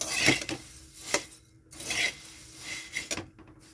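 Puffed rice scrapes and rustles in a frying pan as it is stirred, with several quick, gritty strokes of a utensil against the metal.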